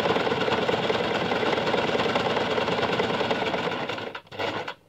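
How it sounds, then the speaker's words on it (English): A sewing machine runs a straight 5/8-inch seam on a wire headband, a steady fast rattling stitch for about four seconds before slowing and briefly stopping, then resuming. "So you're just sewing a straight seam at 5/8 of an inch."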